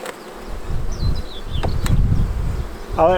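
Honeybees buzz steadily around an open hive during an inspection before the final honey extraction, a dense, close drone with a few individual bees zipping past.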